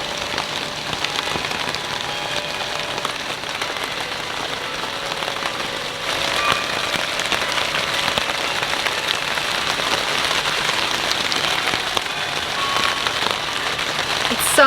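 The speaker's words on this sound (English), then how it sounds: "It's raining cats and dogs up there." Heavy rain drums on a tarp stretched over a sailboat during extreme rainfall in British Columbia, a dense, steady hiss of close drops that grows slightly louder partway through.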